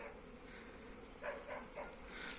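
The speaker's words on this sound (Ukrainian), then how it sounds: "Ось як видно, як бджола йде на обліт." A soft, steady buzz of many honeybees flying out of their hive in January hums in the background, with a few brief louder pulses as bees pass nearby.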